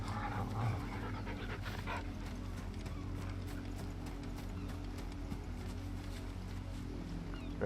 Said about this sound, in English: You can pat the dog.